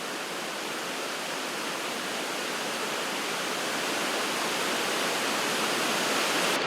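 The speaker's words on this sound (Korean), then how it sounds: "이 폭포 소리가 비 오는 것처럼 들리기도 하면서" A mountain waterfall on a high-altitude trek around 3,000 m roars as a steady, dense hiss like heavy rainfall, loud and even throughout with no voices.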